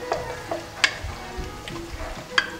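Chicken stroganoff stirred in a pan, a spoon scraping and clinking at scattered moments over a low simmering sizzle, close and fairly quiet with no talk.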